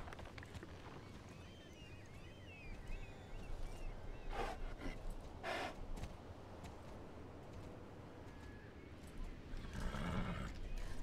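Pony from the video game Star Stable, heard as horse whinnies and neighs with hoof clip-clops over a steady game soundscape, fairly faint throughout with a couple of brighter bursts.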